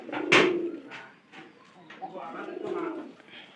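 A domestic pigeon coos nearby in a few soft, throaty bursts, the first loudest, followed by quieter murmuring coos.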